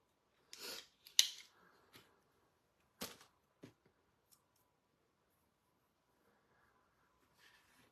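An X-Acto knife cuts a round cutout, probably from paper or card, making several short sharp rasping slices and scrapes spaced over a few seconds, close and quiet, followed by near silence.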